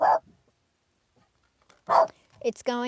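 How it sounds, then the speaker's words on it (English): A dog barks twice, close by, with a pause between the barks, and a person talks right after the second one. "My dog's barking."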